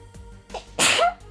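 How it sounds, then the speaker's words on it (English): One loud, close sneeze with a short inhaled build-up before the sharp burst, then quiet. "I'm apparently gonna sneeze now."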